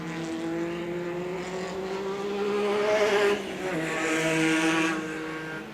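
Off-road race vehicles on a short course at a New Zealand national finals event, engines droning and revving loudly as they climb through the gears, with a louder surge midway as the cars pass close.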